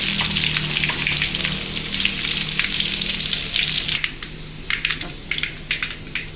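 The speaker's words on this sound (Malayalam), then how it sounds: "കടുക് പൊട്ടി വരുമ്പോൾ ചെറിയ ഉള്ളി അരിഞ്ഞത് കടുക് വറുക്കാൻ നമുക്ക് അതിലോട്ട് കൊടുക്കാം." Chopped shallots frying in oil with spluttering mustard seeds, a loud continuous sizzle that turns into sharp crackling pops and stirring scrapes toward the end, close and with no talk.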